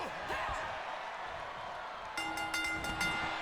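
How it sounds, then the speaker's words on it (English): In the WWE 2K26 wrestling game, a referee rings the bell twice while an excited crowd roars. Sharp metallic rings with long, ringing tones come in the second half over the steady crowd noise. "You're a stupid man ringing the bell twice"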